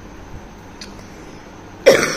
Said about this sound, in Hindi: खांसी मुझे पता नहीं क्यों हुई है